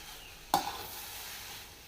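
Egg rice with garam masala being mixed in a pan: a faint low sizzle with one sharp scrape or clack of the spatula partway through, then quiet frying continues.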